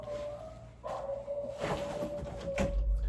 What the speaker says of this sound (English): My dog hates it.